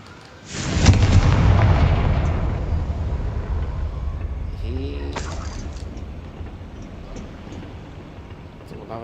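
A Confringo fire spell cast in the video game Hogwarts Legacy erupts as a loud, booming blast that rumbles and fades slowly over several seconds, with faint game effects after it.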